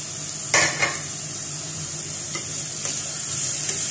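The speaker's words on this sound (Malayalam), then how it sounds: "ഇതൊന്ന് മൂക്കണ വരെ നമുക്ക് നന്നായിട്ടൊന്ന് വഴറ്റണം" Ginger, green chillies and curry leaves sautéed in a pan for puli inji, a Kerala sadya dish: a few distinct spatula scrapes and stirring strokes over a continuous light sizzle, close up and without speech.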